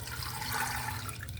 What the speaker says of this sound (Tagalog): At ilagay na natin yung tubig.